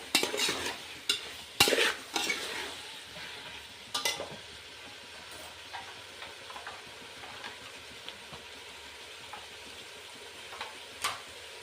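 Coriander powder being mixed into a spice masala in a frying pan for veg pulao, with a spoon scraping and tapping the pan in bursts early on, then quieter, sparser stirring with occasional soft clicks.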